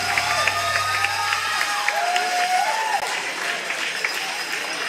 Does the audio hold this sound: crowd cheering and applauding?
yes